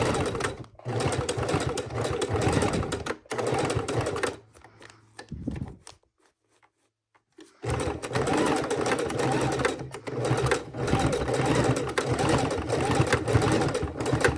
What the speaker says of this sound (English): So let's do a couple more stitches over here.